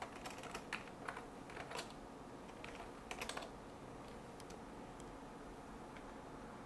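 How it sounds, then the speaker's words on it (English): Quiet typing on a computer keyboard during Linux work on a 64-bit UltraSPARC machine, irregular clicky keystrokes in short bursts over the first few seconds, then fading to faint background hum. "Can still type here."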